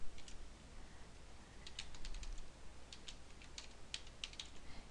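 Quiet bursts of typing on a computer keyboard as an email address is entered, soft rapid key clicks in short clusters with pauses between them, no voices.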